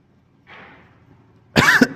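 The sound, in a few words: coughing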